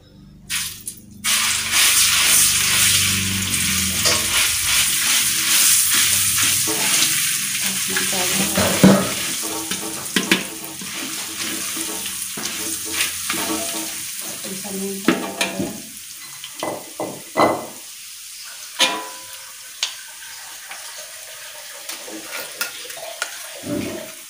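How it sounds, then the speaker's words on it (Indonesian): Spice paste for Javanese opor ayam sautéing in a pan, a steady loud sizzle with repeated scraping and stirring clatter throughout, no talking. "Nih sekarang aku mau numis bumbunya dulu ya."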